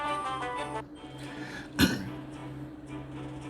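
A voice trails off, then a single short, sharp throat clearing sounds up close, followed by quiet background.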